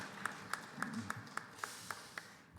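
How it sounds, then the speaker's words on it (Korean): A church congregation at Sunday worship gives a short round of applause, heard as a soft, evenly spaced run of claps that fades out after a couple of seconds. "하나님 앞에 영광의 박수 올려드리겠습니다"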